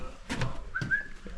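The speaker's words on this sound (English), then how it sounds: "whistling a tune" A person whistles a short tune indoors during a house rewire, two bright rising and sliding whistled notes over faint background noise and soft rustling.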